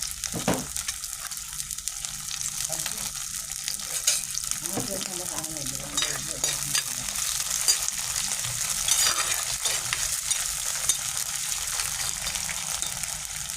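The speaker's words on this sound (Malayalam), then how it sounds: "ഇത് നന്നായിട്ടൊന്ന് വഴക്കിയെടുക്കാം" Large, very hot green chillies sauté in a pan while preparing a Kerala-style beef roast, giving a steady close sizzle with scraping stir strokes throughout.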